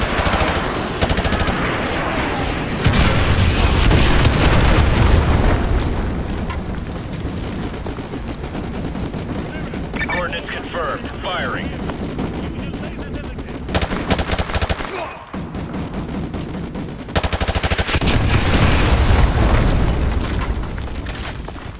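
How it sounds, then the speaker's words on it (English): Artillery strikes and heavy gunfire in the Call of Duty MW2 Campaign Remastered, with sustained loud booming blasts and rapid machine-gun bursts filling the scene, briefly dipping before erupting again in dense, close, continuous battle noise. "Fire mission received. Artillery inbound."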